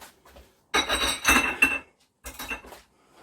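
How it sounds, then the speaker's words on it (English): Utensil scrapes and clinks against a pan while steak and ale pie filling is stirred, two bursts of clattering metallic mixing separated by short pauses, close and without talk. "Give that a mix."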